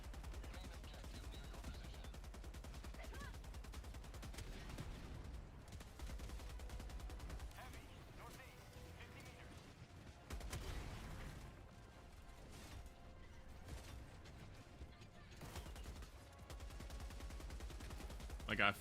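Gunfire in a video game, rapid bursts of shots and mechanical clatter that run steadily throughout under a noisy mix, fairly faint and continuous.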